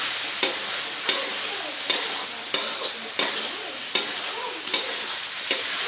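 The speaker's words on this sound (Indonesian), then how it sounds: "Nah ini sudah mulai tanak, saya masukkan cabai gelondongannya" Whole chilies are stir-fried in a simmering spice paste in a pan, with a continuous close sizzle broken by regular scraping strokes from the spatula about every half second to second.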